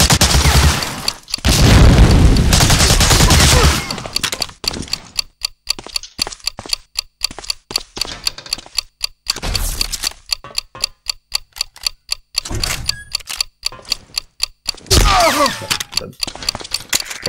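A planted bomb ticks steadily in Medal of Honor: Allied Assault, a loud regular clock-like beat running for many seconds between bursts of gunfire and blasts.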